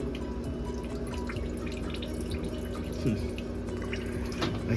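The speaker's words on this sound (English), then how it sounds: "Right here, I see water coming in this pipe." Water leaking through a pipe into a sailboat's flooded bilge, a steady low watery wash with faint drips running throughout, no talk heard.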